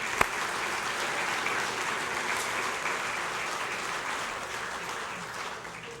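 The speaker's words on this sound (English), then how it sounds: "Give them a big round of applause." Sustained audience applause fills a sports hall of fame awards banquet, a dense, steady wash of many hands clapping at even loudness throughout, with no speech over it.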